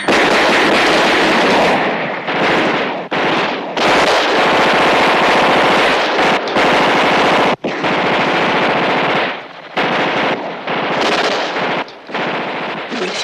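Machine gun fire from a 1978 war film battle scene, loud sustained bursts of rapid automatic shots with brief pauses between volleys and no talk over them.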